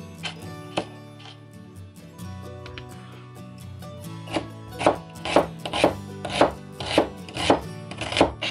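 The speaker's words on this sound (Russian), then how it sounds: "Нарезаем лук полукольцами." A knife slices an onion into half-rings on a cutting board, slow at first then a steady run of crisp, close strokes.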